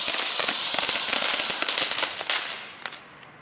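Aldi firecrackers crackle in a dense, loud stream of rapid sharp pops close by, a busy burst that thins out toward the end.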